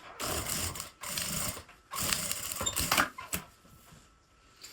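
A sewing machine stitches a seam over an earlier one through lined fabric for a bias-bound box pouch, quiet mechanical whirring in several short runs separated by pauses and clicks.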